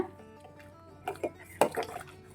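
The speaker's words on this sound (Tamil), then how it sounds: "அரை கப் பால் பவுடர் வந்து இது கூட நல்லா மிக்ஸ் பண்ணி விட போகிறேன்" A spoon clinks and scrapes against a pot while milk powder is mixed into payasam, a few soft scattered knocks and clinks, fairly quiet, with a voice faintly in the background.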